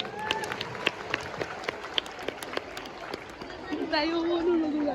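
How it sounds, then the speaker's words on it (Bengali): Scattered, uneven claps from an audience at a girls' school play staged by class 9 and 10 students, with murmuring chatter and a voice rising near the end. "জোরে করতালি দাও জোরে"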